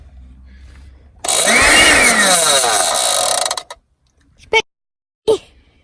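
A small car USB vacuum cleaner motor, sounding like a broken fan, whirs loudly for a couple of seconds with a rising whine, then cuts off, followed by two short bursts of sound.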